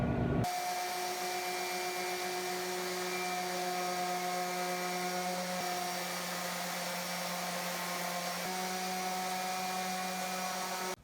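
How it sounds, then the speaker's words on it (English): A cordless drill with its torque set to 8 whines steadily as it drives screws into soft pine 2x4s, one continuous close motor hum holding for about ten seconds with a slight pitch shift partway through. "I have my torque set to my drill at 8"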